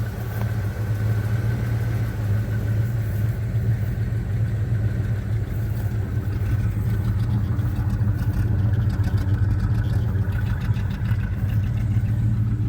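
A 1975 Chevy C10 pickup, its metal work and floors freshly redone, idles steadily with a low, even engine rumble that holds close and loud for the whole stretch with no talk.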